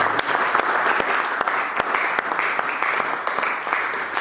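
A church congregation claps and cheers for Jesus in sustained, dense applause that runs close and loud the whole time, with scattered voices mixed in.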